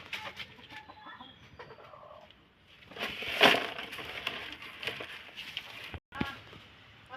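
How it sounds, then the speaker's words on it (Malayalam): Chickens in a backyard coop cluck softly and intermittently amid rustling and a few sharper thumps, fairly faint and close. "ഇവിടെ ഒരു കോഴിക്കൂടുണ്ട്. അതിൽ കോഴിക്കളൊക്കെ ഉണ്ട് കേട്ടോ."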